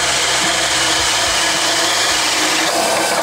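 A DeWalt Flexvolt Advantage hammer drill on speed 3 bores with a 1-3/4 inch Irwin bit, giving a loud, steady whine and grind that runs without a break and cuts off at the very end.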